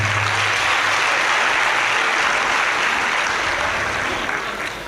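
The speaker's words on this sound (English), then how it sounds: "Round of applause for her, please." Audience applause at a university convocation ceremony, a sustained wash of clapping from a large crowd filling the hall for several seconds.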